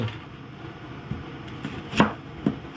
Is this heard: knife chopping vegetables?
yes